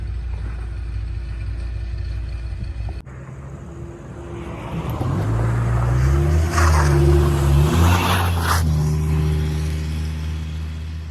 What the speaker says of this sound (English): this truck also sounds pretty awesome